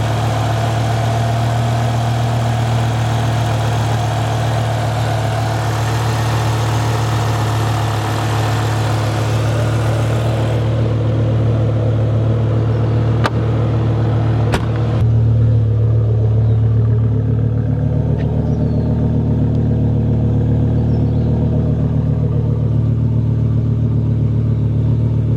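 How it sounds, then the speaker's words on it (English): A 2006 BMW E60 M5 with a 5-liter V10 idles with a steady, deep, even hum heard up close. Its brighter upper tone fades after about ten seconds and leaves a low rumble. No one speaks. "Just a taste of that 5-liter V10."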